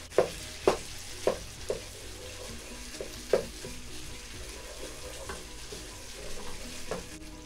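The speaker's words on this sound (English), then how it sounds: "you're gonna mix that with the onions and let it cook for a few more minutes" Tomato paste and onions cooking in a pan over medium heat, a steady frying sizzle with several sharp stirring scrapes early on, close by and without talk.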